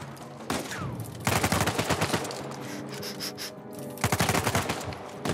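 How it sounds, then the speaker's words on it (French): Rapid bursts of Uzi submachine-gun fire in Uncharted: Legacy of Thieves, several sharp automatic volleys separated by short pauses, loud and close. "Tiens, on n'a pas essayé l'Uzi encore."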